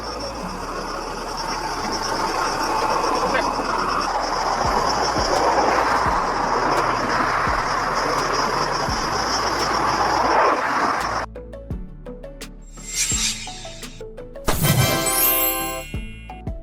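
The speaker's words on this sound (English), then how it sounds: "Firefighting helicopter, a helicopter equipped to drop water or fire retardant from above." A firefighting helicopter flies past as a loud, steady, broad roar with faint regular thumping that lasts about eleven seconds and then cuts off abruptly, followed by a few short unrelated tones and bursts.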